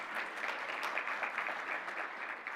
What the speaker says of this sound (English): Tom, yes, applaud away.